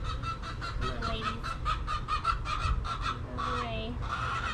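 Repeated loud honking squawks from chickens in a rapid irregular series, fairly close, with a brief break near the end.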